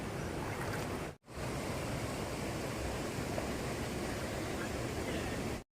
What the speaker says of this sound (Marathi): बघताय पाणी कसं वाहते